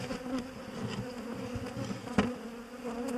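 Honeybees from an opened hive buzz in a close, continuous drone with droning wingbeat tones, individual bees swelling and fading past, with one sharper burst near the end.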